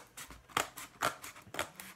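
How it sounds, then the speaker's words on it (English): Scissors snip repeatedly through a stiff paper plate, four crisp cuts in a steady rhythm, close and fairly quiet. "use your scissors to just cut"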